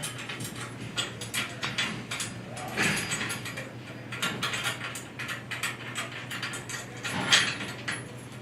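Ratchet wrench loosening bars on a ground switch operator during replacement work: steady, close mechanical clicking and ratcheting with metallic clanks and a few sharper knocks.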